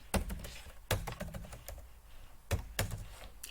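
Java code being typed on a computer keyboard, with quick clusters of close key clicks arriving in short bursts separated by brief pauses, quiet and with no talk.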